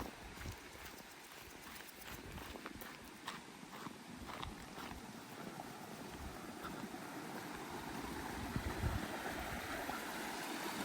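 A creek at a dispersed campsite in central Montana flows over stacked rocks into a small pool, a steady, faint, broad rush of water with scattered small splashes and no voices.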